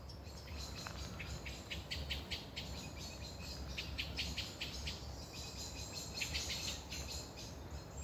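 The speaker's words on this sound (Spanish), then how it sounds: "se escucha el cantar de los pájaros." Birds chirp and trill in a botanical garden at the University of Valencia, bright repeated calls over a faint steady insect-like hum, soft and distant with no voices.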